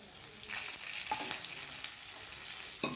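Dried red chillies, five-spice seeds and bay leaf sizzling in hot oil with fried bitter gourd in a Bengali vegetarian dish, giving a steady, close crackling sizzle with a few sharper pops and stirring scrapes.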